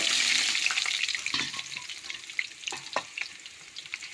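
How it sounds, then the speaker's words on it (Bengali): Potatoes seasoned with salt and turmeric fry in hot oil, a steady close sizzle with occasional stirring clatters and crackles through the pan. "নুন আর হলুদ দিয়ে অল্প আমি ভেজে নিলাম।"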